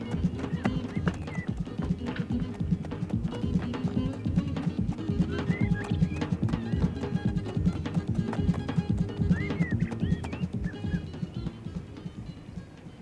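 A horse's hooves clip-clop in a steady, close rhythm on hard ground, with a neigh or whinny breaking through now and then. The sound is moderately loud, with faint voices in the background.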